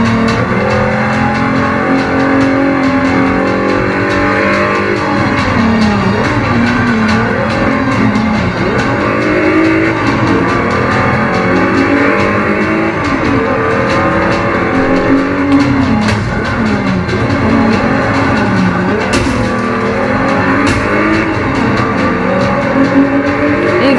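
Race cars in the Forza Horizon video game, with engines droning loudly and steadily while passing other cars in a race, the motor pitch rising and falling with gear changes and no voices over it.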